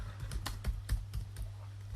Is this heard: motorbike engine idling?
no